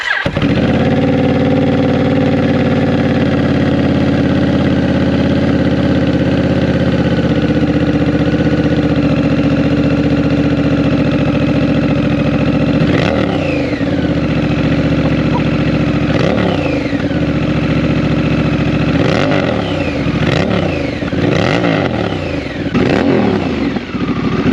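A Honda Rebel 1100 motorcycle with an aftermarket exhaust idles after a cold start with a loud, steady rumble. Several sharp throttle blips rise and fall in the second half.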